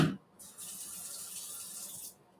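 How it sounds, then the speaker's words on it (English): Water pours into a hot pan of browning ground beef, giving a steady bright hiss and splash for about a second and a half after a brief thump, close and alone. "I like to add a little water."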